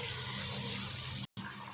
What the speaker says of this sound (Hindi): पानी डाल देंगे थोड़ा सा।